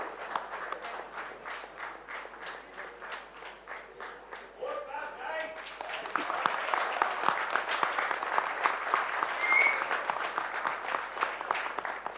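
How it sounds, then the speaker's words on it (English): Audience applause at a bravery awards ceremony in a Chennai hotel ballroom, steady dense clapping that swells louder partway through and continues to the end, with faint voices mixed in. "a big round of applause for wonderful work they've been doing within FSAI"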